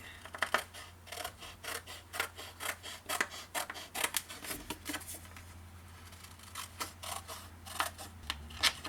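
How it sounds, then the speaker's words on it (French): Scissors cutting along drawn lines in paper for a small vintage suitcase craft, a quiet series of close crisp snips and rustles in an irregular rhythm. "Vous pouvez les couper au ciseau si vous voulez. C'est ce que je vais faire."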